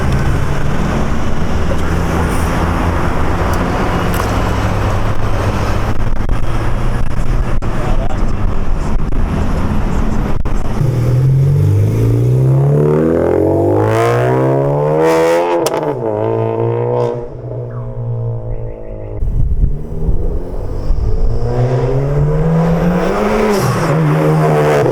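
A 10th-generation Honda Civic Si revs hard on its 2-step launch control, with loud, sustained engine roar and sharp rising and falling rev sweeps near the mic, while people talk over it.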